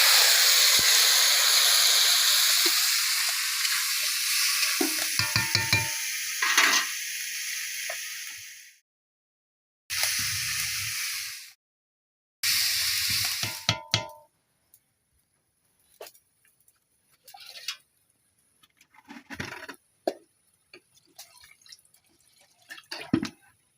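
Hyacinth beans tossed into a hot pan hiss and sizzle loudly for several seconds, cut by abrupt silences, then give way to sparse scraping and clinking of stirring, close up.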